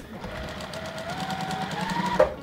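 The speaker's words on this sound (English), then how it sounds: "you can sew them directly across" A sewing machine stitches quilt binding, its needle running in a steady, fast mechanical rhythm at close range with a rising motor whine, ending in a brief louder clunk as it stops.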